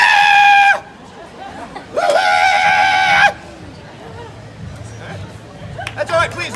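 A human voice imitating the shrill call of a mountain banshee, two loud, high, strained screeches close to the listener, one short and one longer, followed by faint room noise and murmuring.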